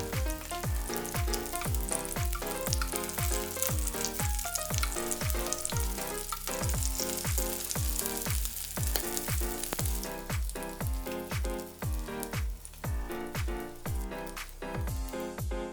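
Oyster pancakes in batter fry in hot oil with a loud, continuous sizzle and crackle, close and steady throughout.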